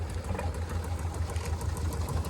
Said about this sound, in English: number 95, is a 4-inch Burrell agricultural tractor